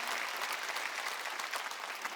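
A church congregation at a Wednesday worship service claps steadily, a dense even patter of many hands heard from a little distance.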